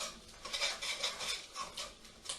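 A utensil stirs chicken pathia sauce with spices in a pan, making a steady run of scraping clinks and light metallic taps against the pan. The strokes are close and repeated, with no voices.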